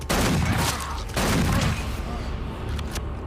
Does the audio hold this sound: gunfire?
yes